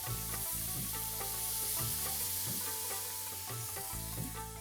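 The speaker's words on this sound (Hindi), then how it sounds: "यहाँ पे चलाते रहना है जब तक कि उबाला ना आए" Curd and gram flour kadhi with turmeric, chilli and coriander stirred in a pot on the stove as it heats toward a boil; a constant loud hiss and bubbling with repeated spoon strokes, no talking.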